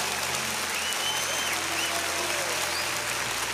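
Steady applause from a church congregation, a dense, even roar of many people clapping together at moderate loudness throughout, with no pauses.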